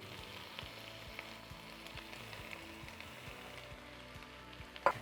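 Baby spinach with its stalks left on, plus coriander, frying in a pan, giving a steady close sizzle with soft stirring clicks throughout and a brief louder knock near the end.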